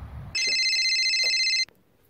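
A flip phone places a call and a loud electronic ringback tone plays as one sustained, bright trill lasting over a second. It cuts off abruptly into near silence.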